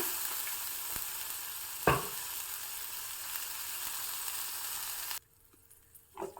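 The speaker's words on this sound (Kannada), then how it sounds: "ಪ್ಯಾನ್ಗೆ ಒಂದು ಚಮಚ ಆಗೋಷ್ಟು ಬೆಣ್ಣೆಯನ್ನು ಹಾಕ್ತಾಯಿದ್ದೀನಿ ನಾನು" A spoonful of butter sizzling and melting in a hot pan, a steady bright hiss with one sharp clatter midway, before the sizzle drops away abruptly to near quiet with a few faint knocks.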